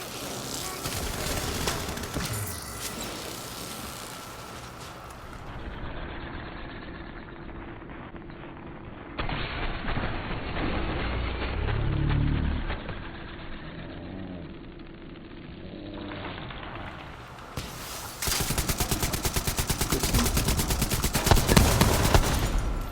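Seeker mine explosions in The Division 2, a run of loud blasts and booms mixed with gunfire, sustained rumbling bursts with a heavy crescendo near the end.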